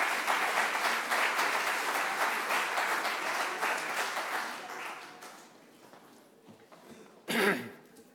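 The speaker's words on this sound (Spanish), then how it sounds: "Por favor, un aplauso a don Francisco." Audience applause at a labour and social security law congress held at a bar association, dense and sustained clapping that gradually thins and fades, with a brief burst of coughing or throat clearing near the end.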